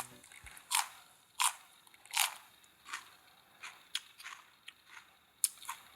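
Crisp bites and crunchy chewing of a fresh, juicy chili pepper on a farm in Cheorwon, Gangwon, a series of sharp crackling crunches at uneven intervals, close to the ear with quiet gaps between.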